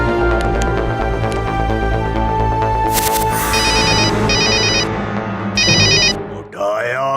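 A mobile phone found lying on the ground rings with a looping electronic ringtone over a busy cartoon music score, the bright repeating tone bursts coming in several short pulses before a voice breaks in at the end.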